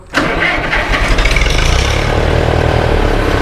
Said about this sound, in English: The tractor's warmed up and it'll start on diesel now.